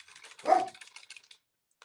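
A single short dog bark, fairly faint, surrounded by light clicking noises.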